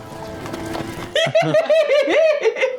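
A horse galloping in The Lord of the Rings: The Return of the King game, rapid hoofbeats at first, then a loud rising-and-falling whinny over the clatter.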